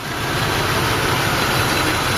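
A 1986 Mercury Grand Marquis with its original engine idles at the first start of the season, a steady, close, broadband rumble that holds evenly throughout without speech.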